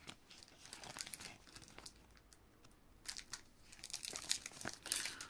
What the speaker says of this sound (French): cette pochette ne veut pas s'ouvrir